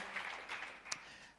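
Applause from a gathering honoring a family and a senior elder, heard as a soft, steady patter of many hands at a distance, lasting about a second and a half with no talk over it.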